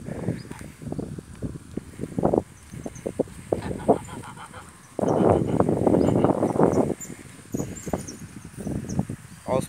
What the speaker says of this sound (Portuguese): Olha os patos aí, ó. Tá em fileira, os patinhos.